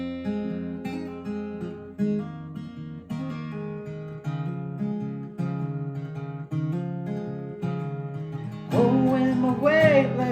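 Acoustic guitar plays the verse of a song in an easier arrangement, rhythmic strummed chords at a steady pace, close and moderate in level, with a singing voice entering near the end.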